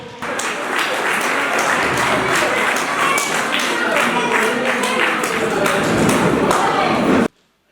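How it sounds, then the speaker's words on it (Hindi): An audience at a felicitation ceremony claps loudly and continuously, a dense, thumping wall of applause that holds steady for several seconds before cutting off abruptly. "जोरदार तालियां बजाएं दोस्तों"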